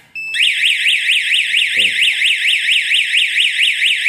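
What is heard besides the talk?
fire alarm bell triggered from manual call point, FDAS panel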